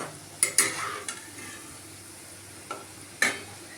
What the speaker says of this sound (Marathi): इथे बघा आता आपण भजी हलवून घेऊया।